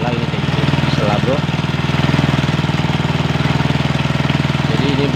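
Motorcycle engine idling steadily, loud and close, with a fast even chugging pulse throughout and no speech.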